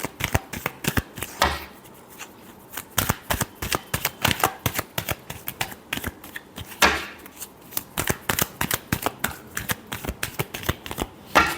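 Tarot cards are shuffled by hand in a steady run of quick riffling bursts, close and crisp, with brief pauses between shuffles and no talking.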